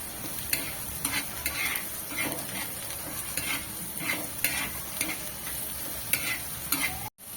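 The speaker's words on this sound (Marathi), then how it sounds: "आता कांद्यामध्येच मी मीठ घालणार आहे म्हणजे आपला कांदा लवकर परतला जाईल आणि मिक्स करून घेऊया" Chopped onions with salt sautéing in oil in a pan, soft continuous sizzle under repeated scraping strokes of a spatula in an even rhythm, close and moderately quiet, with a short cutoff near the end.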